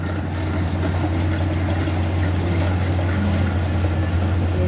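A rice harvesting machine drones continuously at close range in a paddy field, a low, unbroken machine rumble with a broad wash of noise and no pauses.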